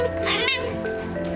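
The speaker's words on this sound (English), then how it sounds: "that's my cat saying I should explain more" A pet cat lets out a single drawn-out meow, close and fairly loud, over a steady background hum with no talking.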